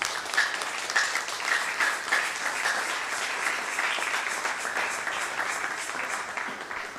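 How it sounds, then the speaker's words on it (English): Congregation applauding the general overseer of Foursquare during an evening session of a 2024 Nigerian church retreat: dense, continuous clapping from a large crowd, holding steady for several seconds with a faint voice briefly heard at the start. "Clap for the general overseer of Foursquare."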